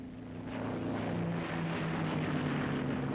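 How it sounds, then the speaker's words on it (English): A Messerschmitt Bf 109 fighter with a water-cooled Daimler-Benz inline engine drones steadily and loudly, a continuous even roar that swells slightly after the start. "The 109 had a water-cooled Daimler-Benz inline engine."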